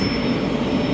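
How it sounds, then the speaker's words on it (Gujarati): A steady, loud rumbling roar of an electric train on the journey from Ahmedabad to Ranuja, heard close and continuous with a thin high whine over it and no talk. "ઇલેક્ટ્રિક ટ્રેન રહેવાની છે"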